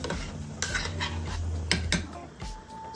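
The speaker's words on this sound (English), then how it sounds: "I'm going to put the tomato in it, and I'm going to stir it." Tomato stirred into a pot of Kerala sambar, with a spoon scraping and clinking against the pot in a few close, irregular strokes and a low steady hum underneath.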